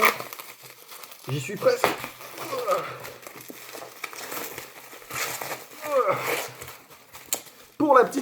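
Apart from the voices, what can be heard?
unboxing the Vivo X300 Pro phone, crinkling packaging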